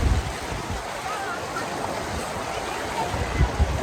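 River water runs in a steady, close rush and wash at a shallow crossing near a Shiva temple, a broad continuous hiss with occasional low surges and no voices.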